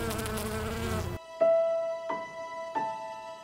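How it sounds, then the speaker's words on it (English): Bees buzz among lavender plants on an Oregon lavender farm, a steady insect drone with faint repeated tones, heard close after a loud start. "There's usually tons of bees because they love the lavender."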